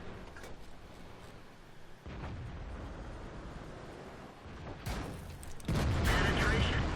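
An IS-3 tank cannon in World of Tanks fires and strikes its target, heavy booming blasts and rumbling battle noise building to a loud, sustained roar near the end.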